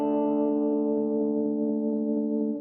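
A 1966 Premier Twin-8 guitar amp holds one sustained, chord-like guitar tone that throbs with a steady pulsing tremolo, loud and close for a few seconds with no talking.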